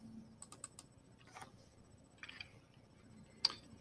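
Several separate soft keystrokes on a computer keyboard as a number is entered, faint clicks scattered over quiet room tone with a brief sharper tap near the end.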